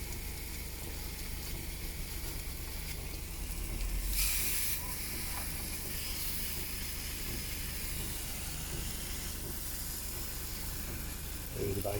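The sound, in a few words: bacon frying in a Ridge Monkey multi-use pan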